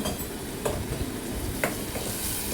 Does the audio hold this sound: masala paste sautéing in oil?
yes